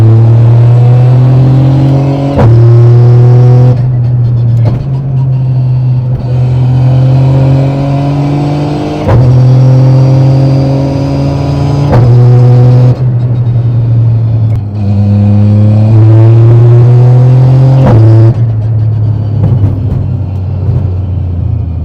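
A Toyota GR Yaris with a sequential gearbox drives and accelerates, its engine rising in repeated pulls with abrupt gear changes every few seconds, heard loud and close from inside with a deep rumble underneath.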